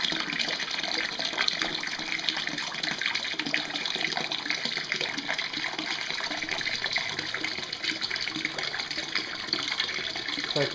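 Water rushes steadily through a spray bar into a homemade portable shad livewell on a small boat, a continuous close hiss and splash with no talking.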